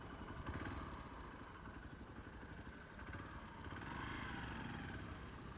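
A motorbike engine runs steadily nearby outside Belur's Chennakeshava temple, a continuous mid-pitched rumble with a slight clatter that holds at a fairly even level throughout, with no talking.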